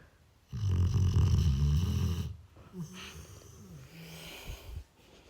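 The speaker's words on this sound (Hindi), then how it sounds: "और ये खर्राटे सुनिए इसके।" A pet dog asleep beside a toy sheep lets out one long, loud, throaty snore. It is followed by softer snuffling snorts and wheezy breaths up close, with no talking.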